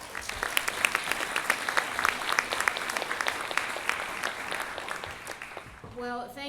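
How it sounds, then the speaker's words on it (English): Applause from an audience at a town hall event fills the room with dense, steady clapping for several seconds, then fades out as a voice begins to speak. "let's have a round of applause for the District Attorney and his entire team of Deputy District Attorneys"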